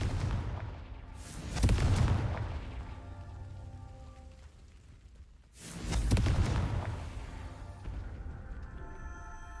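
The Confringo fire spell in Hogwarts Legacy lands as two loud booming blasts about four seconds apart. Each one bursts out suddenly and then rumbles and crackles as it fades, with no voices over it.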